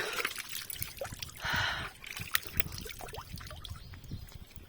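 Water trickles between small rocks on a rocky hillside on a hot day, making a soft, close trickle with scattered small drips and splashes and one brief, steadier pour.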